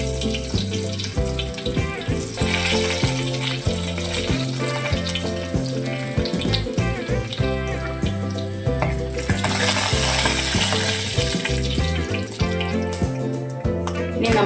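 Dried red chilies and mustard seeds sizzle and crackle in hot coconut oil in a clay curry pot while chicken thoran is cooked. A steady frying hiss runs throughout, with rhythmic background music underneath.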